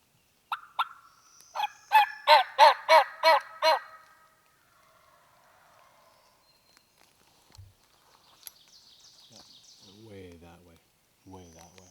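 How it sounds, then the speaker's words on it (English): Hand-operated turkey call on a Pennsylvania turkey hunt, giving a quick string of about six sharp yelps close by, then quiet woods with faint distant sounds and someone speaking softly near the end. "I'll make another quick call, see if I can get them to gobble."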